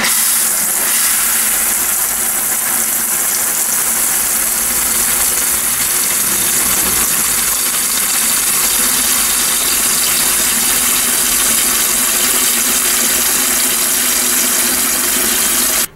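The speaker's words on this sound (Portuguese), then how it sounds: "agora eu vou colocar ela encher de água para vocês verem. Eu selecionei o programa lavagem completa" A Brastemp Eggo 1 kg mini washing machine fills with water on a full wash cycle: a loud, steady rushing gush and hiss that continues unbroken throughout, with no one speaking.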